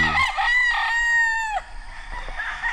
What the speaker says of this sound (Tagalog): Sarap pakinggan ng mga boses ng mga manok.